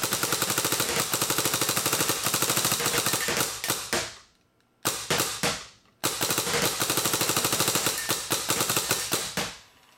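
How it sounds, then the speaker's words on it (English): A Bob Long Alias Intimidator paintball marker fires in fast, loud rapid bursts of sharp pops, with two short pauses before the shooting resumes. "Very fast, accurate shooting marker. Like an Intimidator should be."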